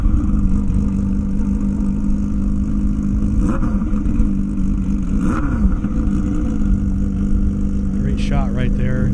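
Honda CBR and Kawasaki race motorcycles on an airstrip, a loud continuous engine drone with rising revs and passing whooshes, busy crowd noise and talk underneath throughout.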